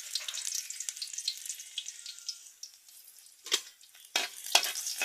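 Garlic and bottle gourd fry in a pan, a light crackling sizzle close by, interrupted by a few louder bursts of scraping and stirring near the end.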